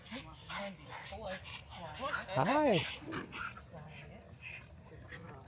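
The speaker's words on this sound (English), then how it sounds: "That is a wonderfully trained dog." A trained dog on a trail gives a short burst of whimpers and high yips mid-clip, close by, with people greeting each other and talking around it.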